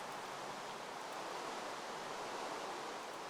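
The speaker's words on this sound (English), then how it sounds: "Make that infinite water source right here." Steady broadband rush of flowing water from an infinite water source in the Minecraft video game, a continuous even hiss like a stream that holds at a constant level throughout, with no talking.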